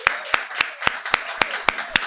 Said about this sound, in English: can we have another round of applause for Arthur, Cynthia, and Doug?